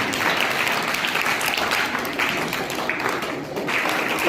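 An audience at a pre-exam motivational seminar for students breaks into loud, sustained applause. Dense clapping from many hands runs the whole time at an even level, with no speech.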